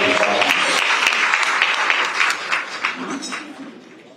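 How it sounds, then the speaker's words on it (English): Applause from a brunch audience for the event's sponsors, a dense, steady wash of clapping that stays loud and close for most of the stretch before thinning slightly toward the end, with some voices mixed in. "Please give a round of applause to our sponsors."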